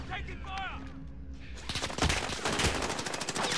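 Gunfire in Call of Duty Warzone: a voice speaks over a quieter start, then sharp, rapid automatic bursts erupt close and loud and keep crackling densely until the end.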